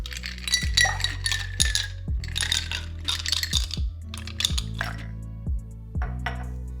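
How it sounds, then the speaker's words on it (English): Ice cubes dropped one after another into a cocktail glass, about eight sharp clinks and rattles in an irregular rhythm, close and clear with no talking. "Now add ice."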